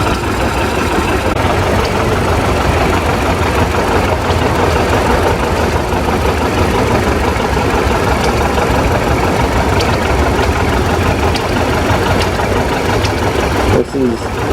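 A 1944 John Deere A tractor idles steadily at an engine show in Baraboo, Wisconsin, its continuous loud, close chugging running unbroken throughout.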